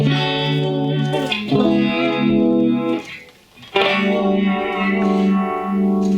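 Clean electric guitar with distortion switched off, played through a swirling modulation pedal, sustained chords ringing loud and close with a wavering, chorus-like shimmer and a brief drop in level midway.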